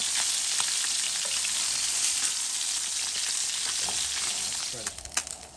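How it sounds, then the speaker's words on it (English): Halibut fillets sear in a hot pan with a steady, fairly loud broadband sizzle that runs throughout, ending in a few light clicks and scrapes near the close. "we got them searing now for another 3 minutes"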